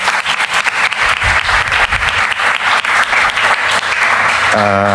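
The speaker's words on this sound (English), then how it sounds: "So a round of applause for Ellie." Loud, sustained applause from an audience at a talk event fills the whole stretch as a dense wash of clapping, with a voice starting briefly at the very end.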